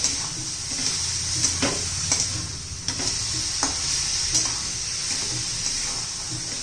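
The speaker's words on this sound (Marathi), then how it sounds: "छान अशा आता ही साखर सगळी आपल्याला वितळून घ्यायचं आहे." Sugar melting in a pan for fresh coconut vadi, stirred steadily with soft scraping strokes over a low continuous sizzle, heard close and without talk.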